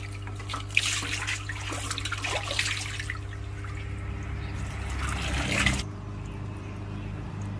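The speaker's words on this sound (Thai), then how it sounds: "เปลี่ยนน้ำให้ใหม่" Water pours and trickles steadily into a cement tank used for raising river prawns, a continuous splashing flow that stops abruptly near the end, leaving only a low hum.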